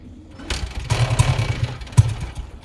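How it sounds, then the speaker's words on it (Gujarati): An old motorbike is kick-started, giving a few rough bursts of engine sound with low thumping pulses that sputter without settling into a steady idle. "બાઈક ને થોડું જૂનું છે એટલે કીકો ખાય છે"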